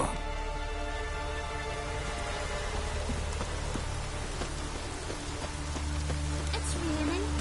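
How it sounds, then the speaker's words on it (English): Steady rain pours down in the Skellige region of the video game Witcher 3, a dense continuous hiss of drops on surfaces with low ambient rumble and a faint tonal game sound near the end. "It's raining."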